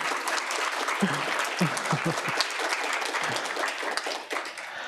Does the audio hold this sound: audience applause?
yes